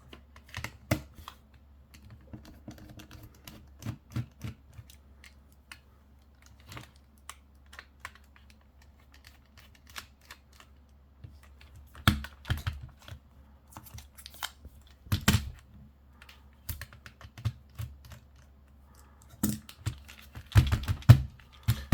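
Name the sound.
removing tri-wing screws from a Nintendo DS Lite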